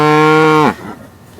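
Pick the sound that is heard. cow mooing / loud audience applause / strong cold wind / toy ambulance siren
cow mooing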